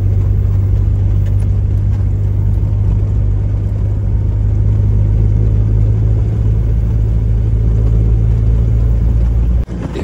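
A camper van called Fred runs steadily up close on a mountain track, its engine a loud, constant low rumble with a throbbing drone throughout and a brief dip near the end.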